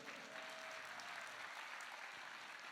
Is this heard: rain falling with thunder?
no